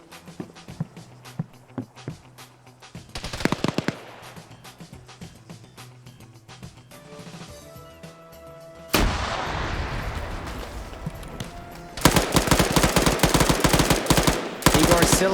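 An M240 machine gun in Arma 3 lays down suppressing fire in long, loud bursts of rapid shots, growing heavier toward the end amid other battlefield gunfire and explosions.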